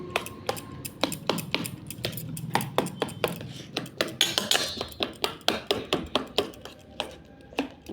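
A spoon stirs a soaked chia seed mixture in a bowl, giving repeated sharp metallic clinks and scrapes in a steady, fast rhythm, close and fairly loud with no talking.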